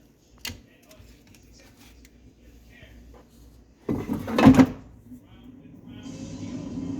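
A sharp click, then a sliding scrape and a clunk as an air fryer drawer is pulled open and pushed shut, followed by a low hum.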